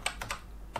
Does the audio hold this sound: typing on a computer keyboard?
yes